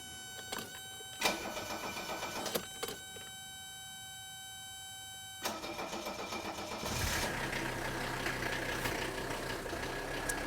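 A 1977–1985 Mercedes diesel engine idles steadily with a constant mechanical hum and faint ticking; a few sharp clicks come early, then the engine note thickens and roughens.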